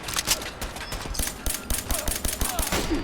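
Enemy gunfire aimed at the player in Fallout 4 while a PP-91 Kedr submachine gun is in use, rapid overlapping shots cracking in dense bursts over about three seconds, close and loud, with no talking.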